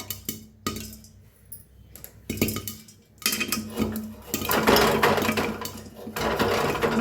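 Grains popping in a pan over a gas flame, irregular sharp pops and rattling bursts that grow denser and louder toward the end, with scraping of the pan between them.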